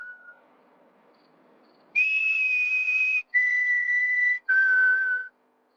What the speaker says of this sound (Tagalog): marinig ang nakakatakot at pamilyar na sipol na yun mula sa labas ng bahay